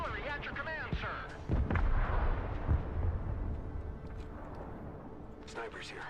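Artillery fire in the Broken Arrow video game, several heavy low booms and thuds rolling out in the background while a voice talks over them, fading to quieter rumble.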